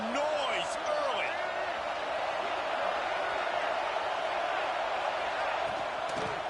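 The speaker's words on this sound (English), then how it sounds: "This crowd bringing the energy and noise early." In a college football video game, a stadium crowd with Wolverines fans roars loudly and steadily throughout, a dense wash of cheering with faint scattered shouts mixed in.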